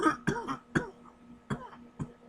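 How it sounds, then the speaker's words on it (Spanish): Harsh coughs from an unwell man, about six dry bursts in quick irregular succession, close and moderately loud, with no talking. "perdón por la tos"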